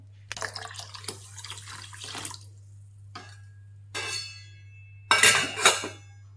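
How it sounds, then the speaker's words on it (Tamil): Water is poured from a tap into a bowl of soaking rice in a home kitchen, coming in several short splashy bursts with pauses between them over a low steady hum, the last pour loudest. "இன்னும் கொஞ்சம் தண்ணி ஊற்றிப்போம்."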